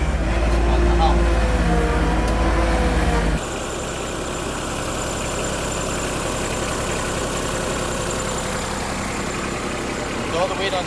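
A stuck John Deere 2210 tractor's engine labors while a rear tire spins on top of grass, a low droning rumble that drops in level partway through and carries on steadily with someone talking over it.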